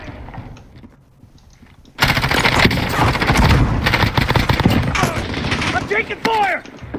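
Sustained automatic gunfire in a multiplayer shooter match near a military base, loud and dense bursts starting suddenly after a quieter lead-in, with a few sharp accents near the end and voices talking over it.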